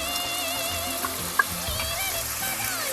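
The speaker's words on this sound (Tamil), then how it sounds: "இப்போ அரைச்சி வச்சிருக்கிற தக்காளி இதில் சேர்த்துக்கலாம்" Ground tomato hits sautéed onions in a pan for a quail fry masala, giving a steady, close sizzle and frying hiss with faint stirring clicks.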